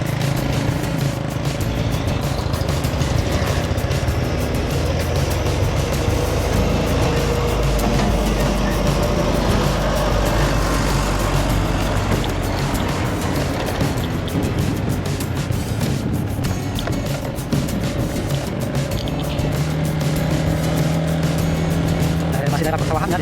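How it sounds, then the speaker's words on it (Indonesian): Buses and cars roll past on a road through rice-field country, a steady broadband traffic rumble and whoosh that fills the whole stretch without a break. "Jadi bus-bus pun lewat sini."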